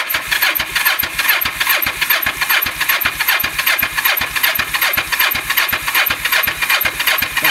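Kawasaki Ninja 500 (EX500) motorcycle cranking on full choke, a rapid, even starter chug repeating steadily and loud up close without the engine catching.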